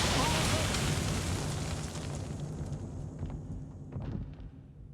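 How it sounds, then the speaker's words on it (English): The Mind Sphere from Star Trek: The Next Generation blows up in a slow-motion explosion, a loud broad roaring rumble that slowly fades and thins with a few crackles, under a speaking voice. "when Picard does, it's this great slow motion explosion"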